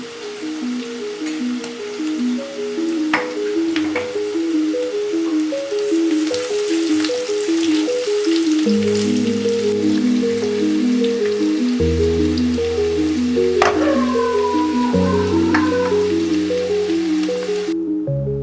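Onions soften with salt as they fry in a pan for a spicy Bengali fish curry, making a continuous crackly sizzle beneath prominent background music.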